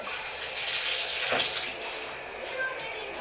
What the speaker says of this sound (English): Let's rinse this. It's pretty dirty.